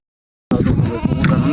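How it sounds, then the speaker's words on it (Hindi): After a moment of silence, goats in a mountain herd let out a loud, close, wavering bleat that carries on to the end. "ये इनके बकरी हैं यहाँ पे।"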